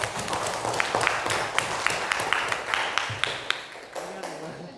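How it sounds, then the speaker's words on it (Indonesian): Classroom applause for a student group, a burst of scattered hand claps with sharp irregular peaks running nearly five seconds, thinning toward the end amid light background murmur. "Tepuk tangan untuk kelompok 2"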